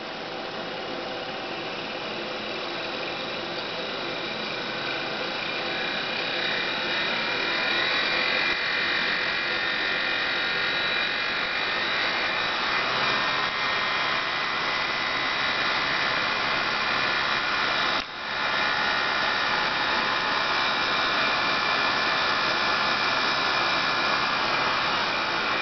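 Electric fan motor run through a variable resistor, a steady close whirring hum with faint shifts in pitch as the speed is turned down, constant and alone.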